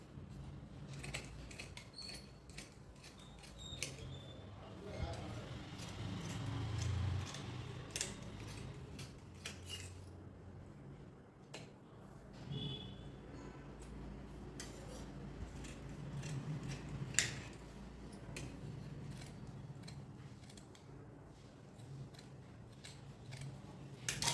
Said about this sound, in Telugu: ఈ విధంగా కటింగ్ చేసేసేయండి.